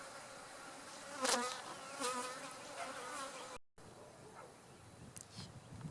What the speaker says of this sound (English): he is kind of riling up the bees